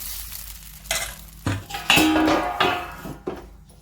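Peanut-flecked dosa batter is spread across a hot pan with clinks and scrapes of a ladle or spatula, a soft sizzle underneath and several sharper metallic knocks spaced irregularly.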